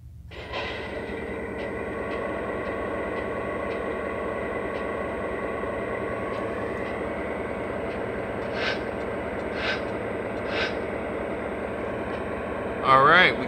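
A Lionel Union Pacific Dash 9 model diesel locomotive in SP patch livery fires up and settles into a steady, humming idle rumble. The engine rises slightly midway, and a brief bright chirp sounds at the end.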